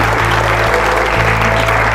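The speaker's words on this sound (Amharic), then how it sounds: "አጨብጭቡለት።" A studio audience at an Ethiopian television show about remarkable record-holders claps steadily and densely throughout, loud and close, without a break.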